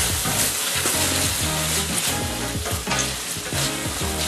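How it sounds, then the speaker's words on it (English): Mixed vegetables including zucchini sizzle and fry steadily in a hot pan, a dense continuous crackle with faint clinks as they are stirred, loud and close with no talking. "The sound you're hearing is the vegetables."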